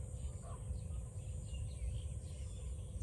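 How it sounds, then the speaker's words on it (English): Faint birds chirp sporadically against a steady outdoor hum with a high insect-like buzz, distant and quiet. "I don't know if the recording is picking up like all the birds."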